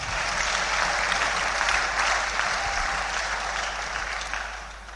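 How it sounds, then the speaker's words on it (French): Church congregation clapping steadily during a worship service, a dense sustained wash of applause from many hands that holds loud throughout and eases slightly toward the end. "Can you clap?"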